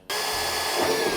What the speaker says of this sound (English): So we're gonna start drilling these pilot holes.